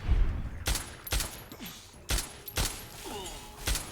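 Rapid shots from a silenced pistol in Fallout 3, about five sharp cracks in quick succession with brief gaps between them, close and fairly loud.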